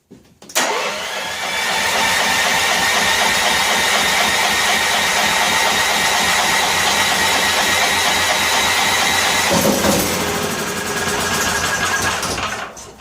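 A cheap 8500 watt electric-start generator engine catches on starting fluid and runs steadily at a loud, constant level for about ten seconds, then shifts briefly before settling again.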